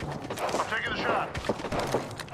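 Rapid gunfire crackles in Apex Legends, a burst of repeated sharp shots and thuds mixed with game effects while a voice talks over them.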